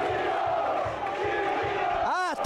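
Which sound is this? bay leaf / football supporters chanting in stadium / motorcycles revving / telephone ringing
football supporters chanting in stadium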